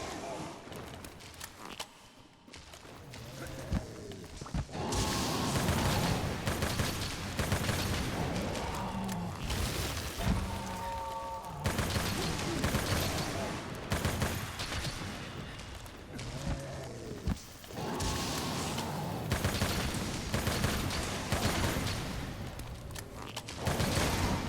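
A light bowgun fires repeatedly in a Monster Hunter hunt against a Khezu, dense booming shots and thuds layered with game clatter throughout, with a player talking over it.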